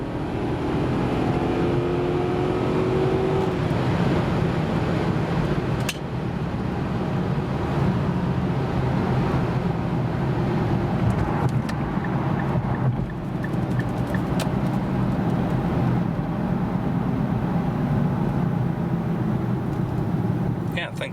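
An Infiniti M45 drives at highway speed, a continuous loud road and wind roar heard from inside the cabin, with someone talking over it at times.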